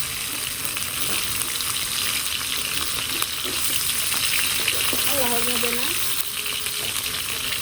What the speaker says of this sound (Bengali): সবগুলো মাছ ভেজে নিলাম